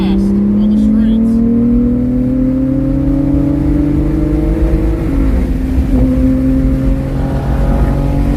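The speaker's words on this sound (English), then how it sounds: "this Turbo S that is pretty fucking fast on the straights" A Porsche Turbo S accelerates hard on a straight, its engine tone climbing steadily in a loud, sustained whine heard from inside the car, with people talking over it.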